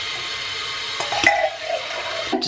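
Hot water runs steadily from a tap, a continuous hissing splash with slight shifts in flow and a few small clinks.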